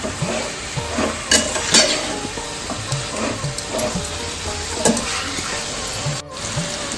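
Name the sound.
sautéing marinated chicken in oil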